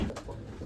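Racing pigeons cooing steadily at a feeding tray, a soft low murmur of several birds close by with no talk.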